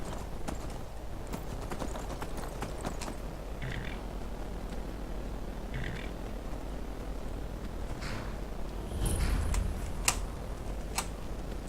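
Horse hooves clip-clopping in the video game Skyrim, a quiet, irregular run of hoof taps over steady low background noise, with a louder rumble near the end.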